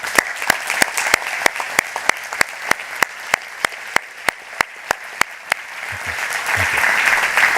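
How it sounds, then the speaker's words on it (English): Audience applause at a WHO regional committee address, carried by a broad crowd wash under a strong, regular series of sharp claps close by, with a voice starting up faintly near the end. "give them a resounding applause"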